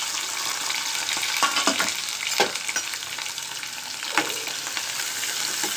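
Onions and curry leaves fry in a pan with a steady close sizzle, broken by the scrape and clatter of stirring at irregular moments.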